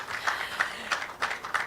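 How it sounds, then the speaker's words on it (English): Conference crowd applause at a female lawyers' real estate event: several hands clap in a fairly loud, rhythmic patter with distinct, evenly spaced louder bursts throughout. "Please, let's keep the applause rolling."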